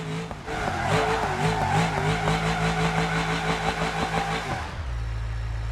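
A car in the BeamNG.drive driving game drifts, its engine revving in a wavering, sustained tone while tyres squeal and skid loudly, before the sound cuts to a low steady rumble near the end.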